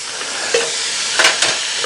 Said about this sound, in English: you'll hear that come up to a good sizzle